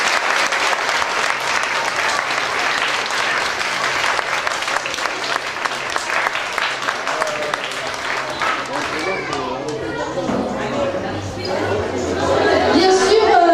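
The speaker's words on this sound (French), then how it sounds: "encore une dernière fois, un tonnerre d'applaudissements pour tout le monde" Loud, sustained applause from an audience thanking performers at an alternative community show, dense clapping throughout with crowd chatter swelling toward the end.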